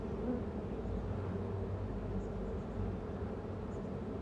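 Honey bees buzz continuously at a hive during an inspection of a strong colony, a dense, steady, close drone with no voices.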